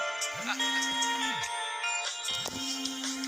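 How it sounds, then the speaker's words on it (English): A phone ringtone plays during a call in a royal palace setting. A melodic electronic tune repeats over two cycles, each opening with a sweeping low tone, and it sounds close and fairly loud with no one speaking over it. "I'm sorry about the phone call."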